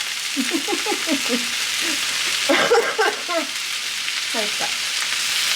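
Ingredients for a roux-free cream stew, cabbage among them, fry and sizzle in a small frying pan, with stirring scrapes and a few brief spoken words over the steady hiss.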